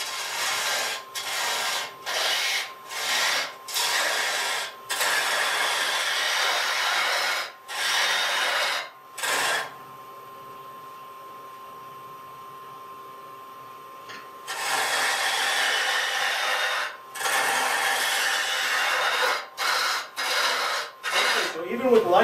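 A ball gouge cutting wood against the grain on a lathe, a loud rasping scrape in repeated bursts with brief breaks and one long pause, close up.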